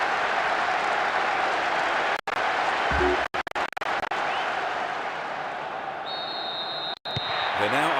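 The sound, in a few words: stadium crowd reacting to a goal in video game PES 6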